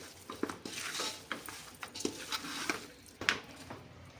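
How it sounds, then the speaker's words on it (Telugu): Chicken biryani marinade with chilli powder and spices mixed firmly by hand or spoon in a bowl, giving soft wet squelches and occasional utensil clinks in an irregular rhythm, close and moderately quiet. "ఇప్పుడు ఇదంతా ఇదంతా ఇట్లా కలుపుకోవాలండి మంచిగా గట్టిగా మంచిగా కలుపుకోవాలి"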